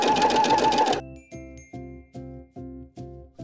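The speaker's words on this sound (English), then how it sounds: "I'm gonna go ahead and zigzag on the outside of my fabric." Home sewing machine zigzag stitching knit swimsuit fabric with a ballpoint needle: a dense loud whir for the first second, then a regular series of separate mechanical thumps, close and alone.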